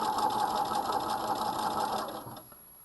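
Sewing machine stitching a coat, running in a steady continuous whir at close range, then slowing and stopping near the end.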